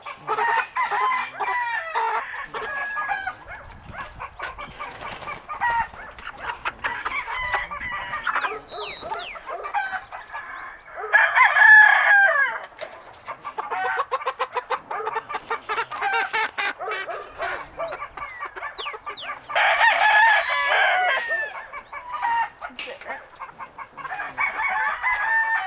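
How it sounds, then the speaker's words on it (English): Cornish Cross meat chickens holler, clucking and crowing in a dense, continuous chorus from a flock nearby, with louder bursts of crowing rising above the din. "Our chickens are hollering because they hear these chickens hollering."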